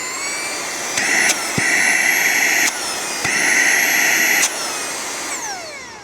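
An Auhma 2-in-1 handheld car vacuum cleaner runs with a high-pitched motor whine, stepping up and down between speed settings with audible clicks, close and loud, then winding down at the end.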